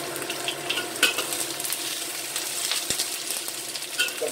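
Seafood mushrooms are stir-fried with diced shallots in a wok, giving a steady close sizzle with scraping and clinking stirs of the utensil throughout, and no voices.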